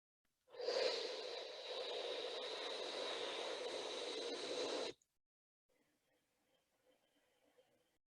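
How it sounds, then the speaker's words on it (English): One long, steady deep inhalation of cool air drawn through the teeth makes a loud, airy hiss for about four seconds during a cooling breath meditation, followed by faint, quiet breathing. "Breathing in deeply, you notice the cooling air going in through the tongue or through the teeth."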